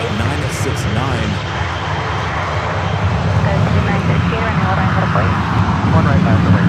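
Airliner jet engines at San Francisco airport roar loud and steady during takeoff, the rumble swelling slightly over several seconds beneath a voice talking.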